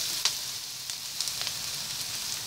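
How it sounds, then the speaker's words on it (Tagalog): Boiled pork added to a pan of frying onions for spicy laing, a steady close sizzle with a few sharp crackles and pops, no voices. "Pag medyo luto na po yung ating sibuyas, add po natin yung ating pork."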